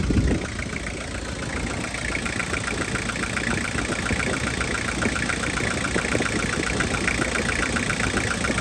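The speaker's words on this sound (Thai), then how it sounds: "สียงเครื่องหวานมากครับ 5L" A Toyota Hiace van with a 5L diesel engine idles steadily nearby, a continuous even rumble with a faint mechanical clatter throughout and no break in the sound.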